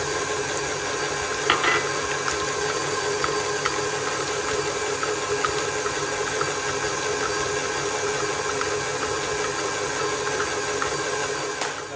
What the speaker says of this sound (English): you can do it with an electric hand whisk